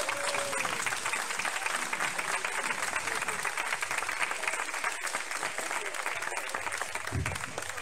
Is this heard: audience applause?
yes